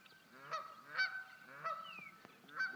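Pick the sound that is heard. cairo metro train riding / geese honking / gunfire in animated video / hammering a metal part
geese honking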